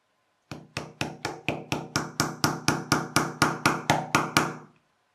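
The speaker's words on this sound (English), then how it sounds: "I should be using a little hammer." A run of about sixteen evenly spaced taps of a small hammer on wood, close and crisp, steady rhythm with no talking.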